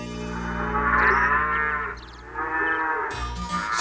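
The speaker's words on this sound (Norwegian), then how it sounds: "Hun er ei kongelig ku." A cartoon cow gives a long, loud moo that swells and falls over a music bed, followed by a second, shorter moo near the end.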